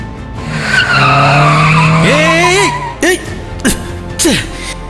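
A car skids with a loud, sustained tire squeal lasting about two seconds, followed by several short squeals as it comes to a stop, close and prominent.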